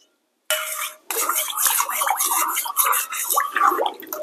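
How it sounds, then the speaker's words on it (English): Blackstrap molasses and yeast are stirred in a bowl for bread dough, a close run of wet swishing and spoon clinks against the sides after a brief initial clatter, no voices. "Next, we want to stir this up."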